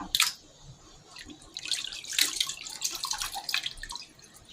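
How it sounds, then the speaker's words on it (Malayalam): Water runs and splashes irregularly as pork is rinsed and handled under it, with bursts of sloshing and dripping, close by. "ഇപ്പം നന്നായി കഴുകിയിട്ട് കേട്ടോ"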